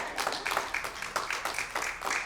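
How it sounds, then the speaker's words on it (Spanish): A church congregation claps in steady rhythm, continuous and moderately loud, with scattered claps blending into a busy patter. "Dale un aplauso al Señor."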